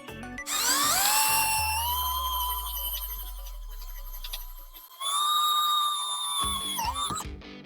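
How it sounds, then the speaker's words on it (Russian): A power drill in drilling mode bores a hole for a self-tapping screw while windows are fitted in a timber-frame bathhouse. The motor whines loudly and close up in two long bursts, sagging under load in between. "Соответственно, делаем отверстие для того, чтобы саморез мог пройти насквозь."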